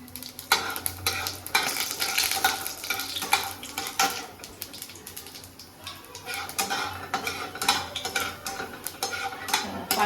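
Panch phoron whole spices frying in a pan for an aloo sajne data mustard-poppy dish, with steady crackling sizzle and frequent scraping, clinking stirs of a utensil against the metal pan, close and continuous without talk.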